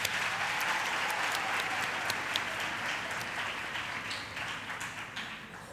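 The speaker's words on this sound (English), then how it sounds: "Can you please give yourselves a round of applause for attending?" Students attending a university campus community safety programme give themselves a sustained round of applause, a broad wash of clapping from a large hall that slowly thins toward the end.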